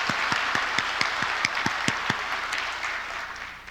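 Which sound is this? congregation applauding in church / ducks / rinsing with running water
congregation applauding in church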